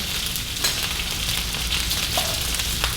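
Pork chops fry in hot oil, a steady close crackling sizzle with occasional sharper pops, continuous and without talk.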